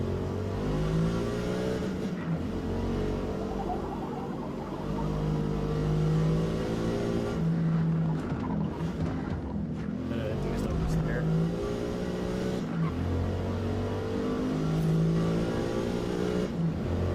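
A race car engine in Forza Motorsport 2023, played with a Fanatec wheel, revs and downshifts aggressively, rising and falling in pitch over a steady roar, with a voice talking over it.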